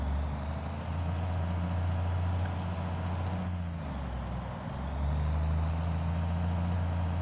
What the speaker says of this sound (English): This truck just sounds so amazing.